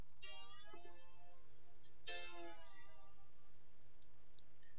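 Brass bottleneck slide gliding along the strings of a waldzither, producing two bright, ringing harmonic notes that sustain and fade, with a faint short pluck near the end; played alone, close and quiet, with no talking.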